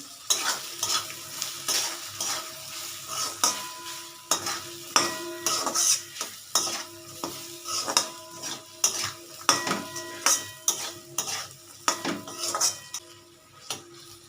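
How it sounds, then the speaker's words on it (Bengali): A spoon stirs taro leaf curry with cumin powder in a frying pan at home, making repeated close scraping clinks over a soft, steady sizzle. "এবার জিরে গুঁড়ো দেব বেশি দেবো দেখো এবার নাড়তে থাকি"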